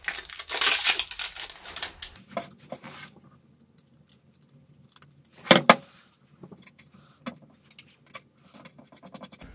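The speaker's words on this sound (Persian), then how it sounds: "یکی از این تیغه ها رو باز میکنیم" A blade is taken off a mini grinder gadget, with loud metallic jangling and rattling at first, then scattered clicks, scrapes and a sharp clank of small metal parts close by.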